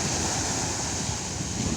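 Waves lapping the shore of Lake Van at a park in Edremit, a steady close wash of surf with wind rushing over the microphone, no voices.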